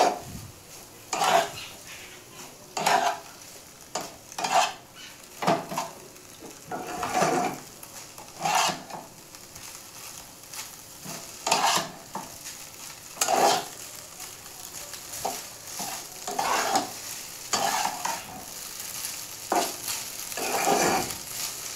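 Maggi noodles being stirred in a pan for Maggi puri: repeated close scraping strokes of a spoon on metal over a soft sizzle, in an uneven but steady rhythm with no talking.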